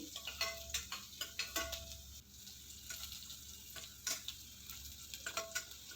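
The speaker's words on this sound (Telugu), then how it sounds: "ఇవన్నీ వేసి బాగా ఫ్రై చేసుకోవాలి. అలాగే 2 కరివేపాకు రెమ్మలను కూడా వేసేసుకొని బాగా ఫ్రై అయ్యేలాగా కలుపుకోవాలి." Tempering spices and curry leaves sputter faintly in hot oil for tomato rasam, with soft repeated ticks and scrapes of stirring over a quiet sizzle, close and with no voices.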